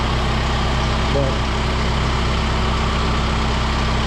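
Kubota M4D-071 tractor engine idling outdoors, a steady low, throbbing diesel hum that holds an even level throughout with no other sounds standing out.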